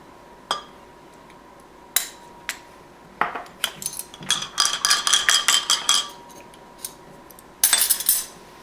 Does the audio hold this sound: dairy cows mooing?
no